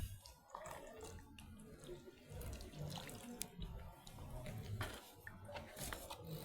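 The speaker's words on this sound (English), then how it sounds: "water the soil for the soil to settle down." Water poured onto soil in a seed tray for lettuce seedlings, a soft steady splashing trickle close by and faint, without talking.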